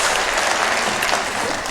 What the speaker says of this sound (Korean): 하나님께 감사의 박수를 한번 올려드리겠습니다